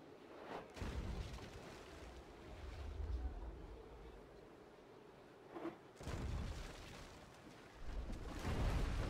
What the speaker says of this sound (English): Alright, back on sailing.